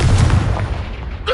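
Confringo blasting curse in Hogwarts Legacy, a video game: one loud, deep explosive boom that fades into a rumbling tail, close and alone.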